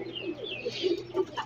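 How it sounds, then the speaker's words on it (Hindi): Soft, low pigeon cooing repeats in short rounded pulses, close by, with a faint higher chirping in the background. "बड़ा प्यारा बना ये कबूतर"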